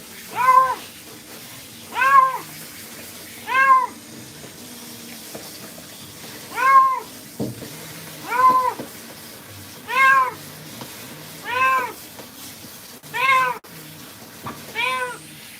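A black and white cat meows over and over during a bath, loud and plaintive, about every one to two seconds, with faint splashing between cries.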